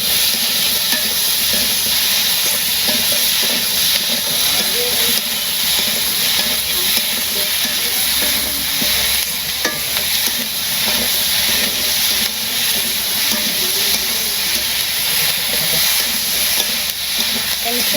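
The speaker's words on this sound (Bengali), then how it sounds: "আমি সবজি কষিয়ে নিই।" Vegetables sauté in a pan during simple village cooking, giving a loud, continuous hiss and sizzle that holds steady for the whole stretch, with faint stirring underneath and no clear talk.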